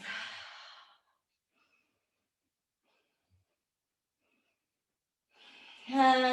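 Slow deep breaths during an Ashtanga yoga flow in warrior one, a long sighing exhale at the start, a stretch of near silence, then a fuller breath returning, soft and close.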